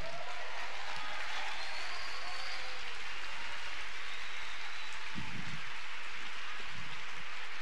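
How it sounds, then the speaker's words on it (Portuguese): A church congregation at a family conference stands and applauds, producing a continuous, fairly soft wash of clapping from many hands, with a couple of brief low thumps partway through. "fica em pé para aplaudir o teu Deus"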